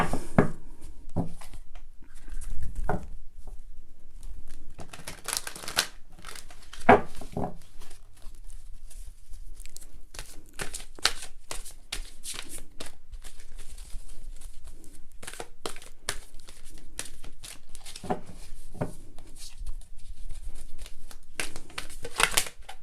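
Tarot cards being shuffled by hand during a Libra reading, a quiet, intermittent papery riffling and slapping in bursts across the stretch, close and soft with brief pauses between shuffles, no voices.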